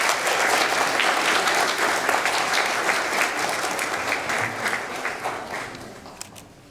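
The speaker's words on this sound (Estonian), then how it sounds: "Veel kord aplaus ja palju õnne Klaarale!" Applause from the audience at a spring concert by an art school in Kadrina, Estonia, after a performer is congratulated: dense, sustained clapping that fades gradually toward the end, with a sharp knock just before it stops.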